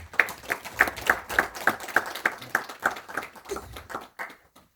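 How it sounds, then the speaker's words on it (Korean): A steady round of hand clapping from a lecture audience, evenly paced beats that thin out and fade toward the end. "다시 한번 박수 부탁드리겠습니다"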